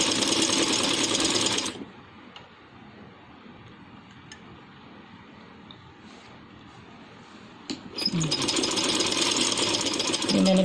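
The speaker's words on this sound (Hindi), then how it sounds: "पूरे घेरे पर हम जो है इसकी सिलाई लगा लेंगे" A sewing machine runs in two bursts, stitching around the full hem of a dress: loud steady whirring at the start, a quieter pause with faint low sounds in the middle, then the machine starts again near the end.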